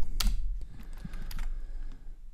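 Fingers type on a computer keyboard while coding a JavaScript Node.js tutorial, a quick run of close, sharp key clicks and taps at an uneven pace with no talking.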